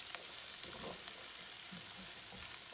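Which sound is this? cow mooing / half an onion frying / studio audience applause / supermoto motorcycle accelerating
half an onion frying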